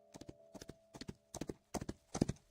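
Horses walk through a forest, hooves clip-clopping in close, distinct clusters of hard knocks with short gaps between, a faint steady tone running underneath.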